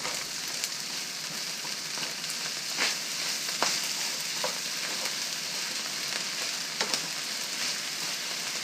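Fried rice with Chinese sausage and black soybean sauce sizzles steadily in a hot pan while clumps are broken up, a constant crackling hiss with occasional sharp scrapes and taps of the utensil.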